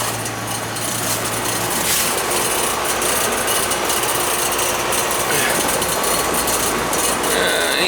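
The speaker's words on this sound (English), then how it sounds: "I think the fan's just running on that. I don't think the compressor's running on that one." The outdoor unit of an air conditioner runs with only its fan turning and the compressor off. It gives a steady, close whirring drone with faint mechanical rattles, unbroken for the whole stretch.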